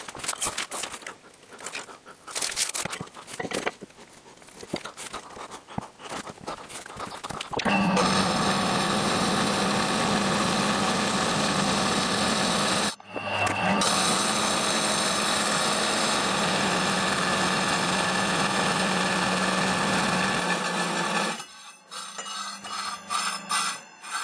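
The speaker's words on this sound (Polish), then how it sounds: "No i tnie piła całkiem nieźle." A power saw cuts a wooden piece to length for a folding DIY woodworking press. After quieter workshop noise, it runs as a loud, steady roar with a brief break in the middle, then stops.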